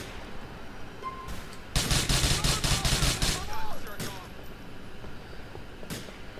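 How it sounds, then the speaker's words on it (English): Rapid gunfire in the video game GTA with the LCPDFR police mod, a loud automatic burst lasting about two seconds amid background ambience, followed by a single later shot. "That's the person shooting at the cop"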